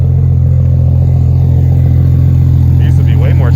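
A Nissan Skyline R32 GTR running on E85 idles close by, a loud, steady low hum with an even, smooth pulse, with brief faint voices near the end.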